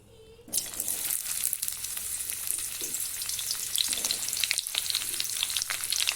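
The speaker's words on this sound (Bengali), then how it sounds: "তাতে তেল গরম হলে এর মধ্যে আলু আর ফুলকপিকে হালকা আঁচে ভেজে নেব" Cauliflower and potato pieces hit hot oil in a pan over a low flame and set off a loud, steady sizzle and crackle. It runs on continuously with small bursts as the pieces shift, and nobody speaks.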